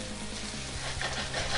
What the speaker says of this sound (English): That's the sound you want to hear. Yeah, I love the sizzle when I cook.